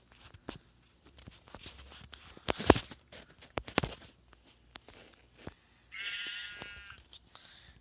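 A sheep in Minecraft gives a short bleat near the end, after scattered game clicks, hits and footsteps, with a louder hit thump partway through.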